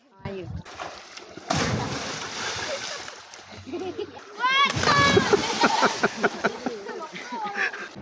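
Children shout and chatter while water splashes in bursts in a pool made from a restored bomb crater in Vieng Xai, Laos, with a quiet lull in the middle before lively splashing and voices return.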